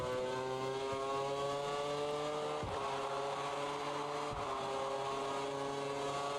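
V8 Formula 1 engines in a racing video game hold a steady high-pitched whine, with sharp momentary dips at gear changes and faint other cars around.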